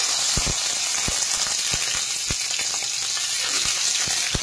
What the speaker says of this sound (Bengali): দেখেন তেল ভালোভাবে গরম হয়ে গেছে, এখন আমি লাউ পাতা মোড়ানো মাছগুলো দিয়ে দিচ্ছি।